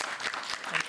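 Short, lively audience applause at a televised Q+A panel discussion, a close, dense patter of clapping lasting under a second.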